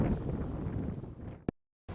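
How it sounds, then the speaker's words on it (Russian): Strong wind on an early spring feeder-fishing outing buffets the microphone with a rough, rumbling rush for over a second, then the sound abruptly cuts to silence. "Подул сильный ветер."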